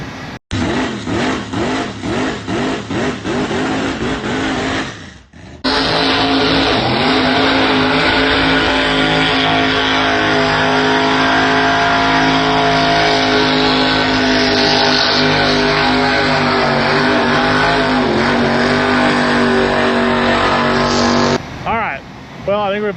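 A big burnout-competition truck engine roars loud and close, revving hard in bursts for about five seconds, then holding a long sustained high-rpm howl before cutting off near the end.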